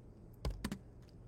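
A few quick clacks of keys typed on a computer keyboard, two close taps followed by a faint softer pair, quiet and isolated with no voices.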